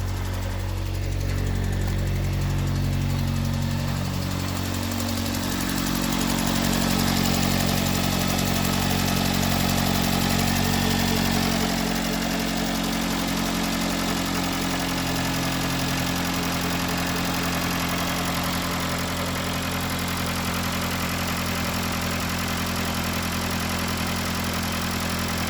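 A 2011 Dodge Journey 2.4L engine, freshly fitted with replacement fuel injectors, idles close by with a steady hum whose pitch sinks partway through as the revs gradually settle lower.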